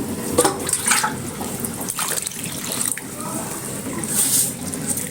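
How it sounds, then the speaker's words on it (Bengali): Warm water splashes and trickles into a container of lentils in uneven bursts, fairly close, with faint kitchen background noise. "গরম পানি রেখেছি গরম পানিটা দিয়ে হালকা গরম পানি বেশি না"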